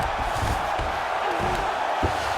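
The arena crowd cheers in EA Sports UFC 5, a broad, sustained roar of many voices filling the space, while a commentator speaks over it.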